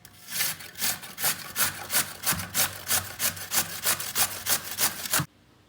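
Raw peeled potatoes are grated by hand for eggless hash browns, making about a dozen even, rhythmic rasping strokes, close and fairly loud, that stop abruptly near the end.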